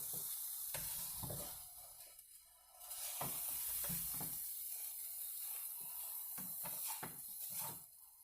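Eggs for a cheesy omelet turned scrambled sizzle steadily in a frying pan, with scraping stirs and clicks of a utensil against the pan breaking up the hiss.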